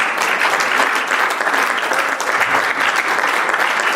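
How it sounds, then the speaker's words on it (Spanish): A church congregation claps steadily and loudly for several seconds, a dense continuous applause with no break. "Denle un aplauso al Señor."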